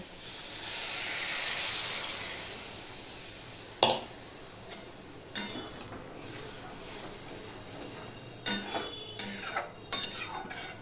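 Water poured into a hot pan for a vegetarian dish made without onion or garlic bursts into a loud hissing sizzle that fades over a few seconds, followed by scattered utensil clinks and scrapes against the pan.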